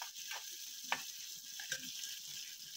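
A Telugu mirchi pachadi mixture of bajji chillies fries in a pan with a quiet, continuous sizzle and a few faint clinks and scrapes.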